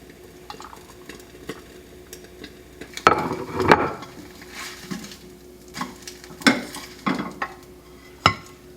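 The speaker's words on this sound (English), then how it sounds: "Eggs are cooking, hash browns are done." Eggs and hash browns cooking in a pan, a soft sizzle beneath scattered clinks and scrapes of a utensil against cookware, close with no talking.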